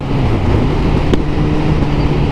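An Aprilia 125 motorcycle engine drones steadily under wind rush, with a single sharp exhaust pop cracking out about halfway through.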